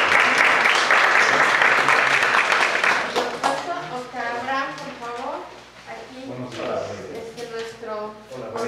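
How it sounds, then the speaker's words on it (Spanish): An audience at a gender workshop applauds briefly at the start, a burst of clapping that fades within a few seconds before a voice takes over and continues speaking. "Denle un aplauso, por favor."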